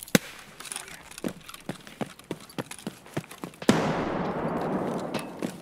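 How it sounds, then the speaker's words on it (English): A grenade blast in Escape from Tarkov, a single sharp loud bang partway through followed by a rumbling noisy tail, preceded by a series of evenly spaced quieter clicks or steps. "I'm tossing a nade."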